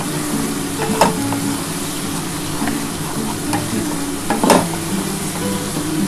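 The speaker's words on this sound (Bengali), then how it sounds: "খুব ভালো করে মশলাটা কষিয়ে নিই" Ground spice paste of tomato, ginger, garlic and onion with whole garam masala frying in a pan while being stirred, a steady close sizzle with scraping clinks of a spatula and a couple of louder knocks, no voices.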